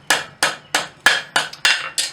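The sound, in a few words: rawhide mallet hammering forged steel heart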